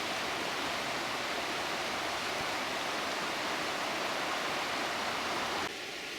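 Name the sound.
Skeeby Beck stream flowing into the River Swale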